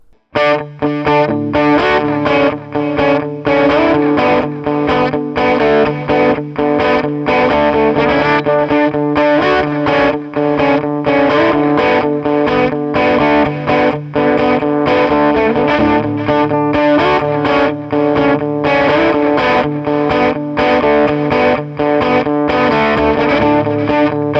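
Electric guitar played through distortion and effects units, with a touch of chorus, dialed in for a specific tone; a loud, steady, driven melodic passage with rhythmic picked notes running continuously.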